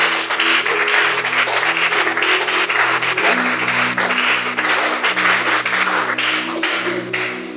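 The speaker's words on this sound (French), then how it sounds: "On acclame pour la parole." A church congregation claps steadily and loudly throughout, with organ or keyboard chords sustained underneath.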